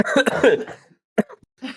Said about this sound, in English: No, I'm coughing too.